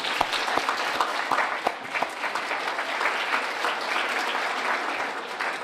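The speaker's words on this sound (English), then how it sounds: "So you guys give yourself a round of applause." An audience at a keynote talk gives a round of applause, dense and sustained clapping from a sizable crowd with a few sharper close claps, steady throughout.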